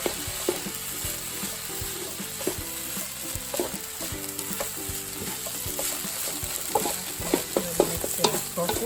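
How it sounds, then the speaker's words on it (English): Rice is stir-fried with oyster sauce in a hot pan, a constant sizzle broken by repeated rhythmic scraping and tapping of a spatula against the pan, close and moderately loud, with no talking. "Mix it properly so that the sauce can mix up the rice."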